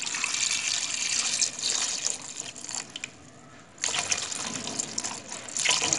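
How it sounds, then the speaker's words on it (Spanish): Water runs steadily from a tap into a pot of tejocotes, a near, continuous gushing splash that briefly quiets midway, then resumes at full force. "vamos a colocar los tejocotes en una olla y vamos a agregar agua hasta que se cubra"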